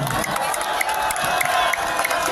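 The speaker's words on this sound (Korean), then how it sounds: "국민의원님들 다시 한번 박수 부탁드립니다." Crowd at an outdoor candlelight political rally applauding and cheering, a dense, steady wash of clapping with scattered whoops and shouts throughout.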